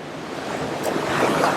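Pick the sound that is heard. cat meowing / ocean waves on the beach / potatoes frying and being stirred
ocean waves on the beach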